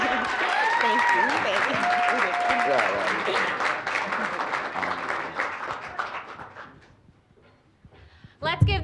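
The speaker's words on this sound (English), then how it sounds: "Let's give them one more big round of applause." An audience at a college-access program event gives loud, sustained applause mixed with cheering and crowd voices. The clapping slowly fades over several seconds to near quiet, and then a burst of sound returns at the very end.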